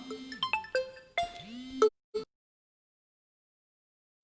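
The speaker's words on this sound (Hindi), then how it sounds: "ये फोन आ रहा है" A mobile phone ringtone for an incoming call plays a quick melodic run of bright electronic tones, loud and close, cutting off abruptly, followed by a short blip, a long silence and a final burst at the end.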